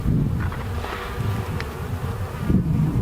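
Honeybees buzzing around an open hive during an inspection after a cold Texas winter, a dense close drone with individual bees flying past.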